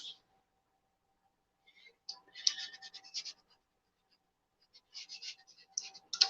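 Pencil scratching on paper while a circle is drawn for an octopus head, two bursts of quick, close, dry strokes separated by quiet pauses.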